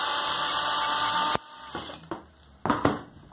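A power drill drives a screw into bamboo for a wall-mounted cutlery holder. A steady motor whine cuts off abruptly, followed by a few short, uneven drill bursts at close range.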